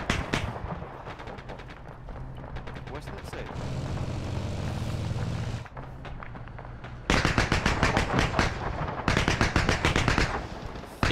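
Sustained machine-gun fire in a military shooter game, with rapid loud bursts, an aircraft drone in the middle and a voice faintly in the mix.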